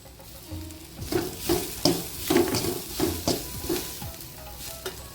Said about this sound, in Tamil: கீரை இந்த அளவுக்கு நல்லா வதக்கிக்குங்க